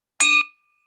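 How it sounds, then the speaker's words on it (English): A single bright bell strike rings out at a state economic forecast meeting, a sharp clear ding with a short sustained tone that fades quickly into silence, heard alone. "So I'm ringing the bell."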